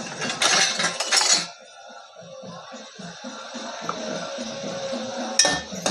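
Onion and tomato being stirred in a pan with salt, a spoon clinking and scraping against the metal in a steady rhythm, with louder clatter at the start, close by and without talk.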